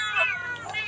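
A cat at a Buddhist temple in Chae Hom, Lampang, gives two or three close, high mewing calls in quick succession against a faint background hum.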